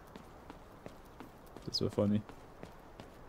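Quick, soft footsteps sound in the Delta Force Hawk Ops extraction mode video game. They are faint and brief, partly beneath a player's voice.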